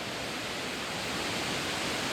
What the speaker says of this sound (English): The waterfall is there.